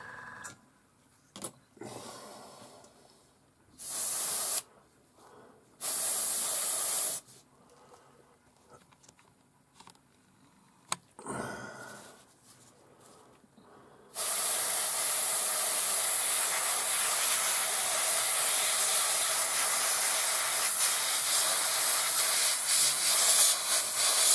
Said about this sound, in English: let's spray all the jerry cans and some of the equipment